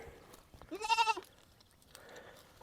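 A single wavering bleat of a goat close by, lasting under a second, with quiet rustling before and after.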